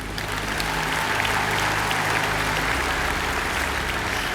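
Audience applause at a political speech, a dense, sustained roar of many hands clapping filling a large hall, loud and continuous throughout with a low hum underneath.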